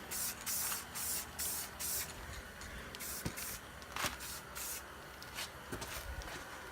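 Spray paint can hissing onto a car headlight during a quick DIY paint job, in several close, loud bursts of steady hiss separated by short pauses and faint handling noises.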